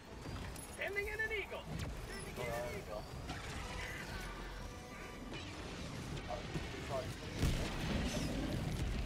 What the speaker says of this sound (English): I'm throwing a 500 kg bomb in there